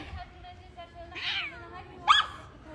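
A cat meows twice indoors during a casual home livestream, the short cries faint to moderate against low room noise, with a dog nearby.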